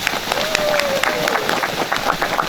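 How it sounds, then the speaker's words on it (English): Crowd applauding outdoors at a Martin Luther King Jr. Day march gathering, steady clapping with some cheering throughout, and a brief whistle-like tone early on. "Can we give them a round of applause"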